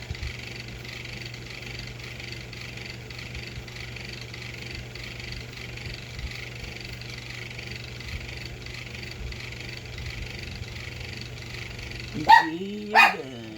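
A pet dog barks twice at the very end, sharp and fairly close, after a long stretch of steady low hum and faint room noise.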